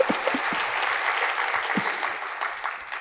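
An audience at a Japanese programming conference talk on Ruby namespaces applauds in a steady, full round of clapping that carries on for about three seconds before tapering off.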